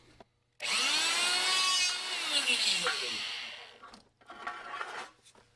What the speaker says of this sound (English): I got this hole punch, and I'm punching holes in this so I can screw the stair treads on.